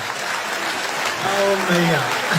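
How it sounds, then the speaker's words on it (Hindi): Audience applause at a poetry recital, a steady wash of clapping throughout with a voice speaking over the final second. "एक बार तालियां बजा दीजिए"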